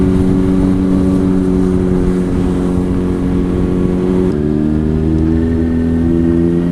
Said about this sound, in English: Future bikers of tomorrow want to hear a bike rev, you've got to rev it, even if it annoys people in a cafe.